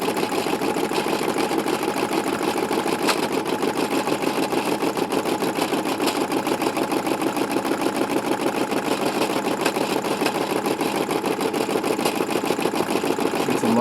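A sewing machine stitches a leather wallet, its needle pounding out a fast, steady, mechanical rhythm that runs unbroken and loud the whole time, close by with no talking.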